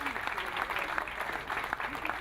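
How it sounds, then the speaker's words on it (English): Steady applause from a crowd at a genocide commemoration gathering as a speaker is welcomed, a dense, even wash of many hands clapping at moderate distance for a couple of seconds. "please give a round of applause to Mr."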